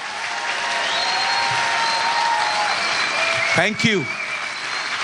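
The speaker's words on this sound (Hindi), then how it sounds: "आइए उसके लिए जोर से ताली बजाएं," Loud congregational applause in a Christian church service fills the whole stretch as a dense, steady wash, while a voice briefly speaks over it near the end.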